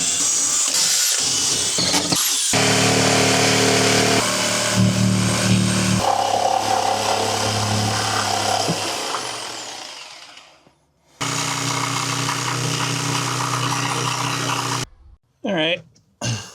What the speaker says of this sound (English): drill a bigger hole going all the way around, and then I'll follow it up with a jigsaw